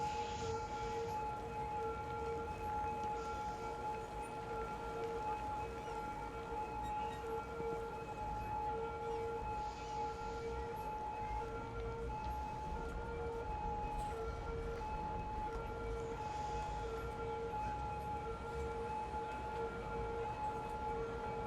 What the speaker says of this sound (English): Hopefully we get out of the area where the siren is, because this is not my favorite sound or anything.